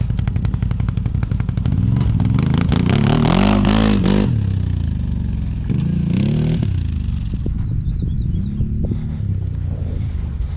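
A CF Moto 1000 Nordic accelerates uphill with a loud, close engine roar that climbs in pitch through the gears, with wind buffeting the microphone, then fades toward a lower drone.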